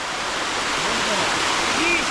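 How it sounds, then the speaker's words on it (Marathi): A waterfall at Tata Power near Khopoli, heard as a steady, dense roar of falling water close by, filling the whole clip without a break. "फायनली आम्ही पोचलो इकडे या धबधब्याच्या इथे"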